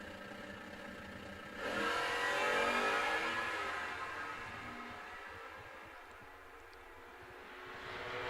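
A side-by-side drag race, including an FS8 stick shift Mustang, at a Bowling Green outlaw series event: engines burst in loudly after a quieter stretch, roar and pass, then recede into a lower drone with no talk.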